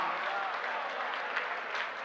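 Applause from the audience at a Haryanvi comic poetry recital, steady dense clapping filling the whole moment at moderate volume, with no voices over it.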